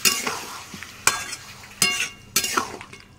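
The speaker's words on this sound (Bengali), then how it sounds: "মশলার পেস্টটা দেওয়া হয়ে গেলে আবার ভালো করে কষিয়ে নেব" Chicken with onions and masala paste frying in a pan, with several distinct stirring scrapes spaced a moment apart over a continuous close sizzle.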